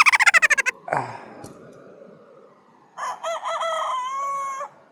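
A rooster crows loudly and close, with a rapid burst of clucks first, then a quiet gap before a long, drawn-out crow.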